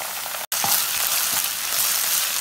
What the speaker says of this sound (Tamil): பச்சை வாட போற வரைக்கும் நல்லா வதக்கிக்குவோம்